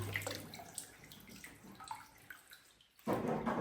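Sausages being washed in water give soft splashing and trickling sounds with small drips, quiet and close, ending in a louder rush of running water.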